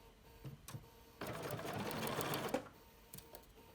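Sewing machine stitching the side seams of a fabric reusable snack bag, a short burst of rapid whirring stitches lasting about a second and a half between quiet handling noises, close by.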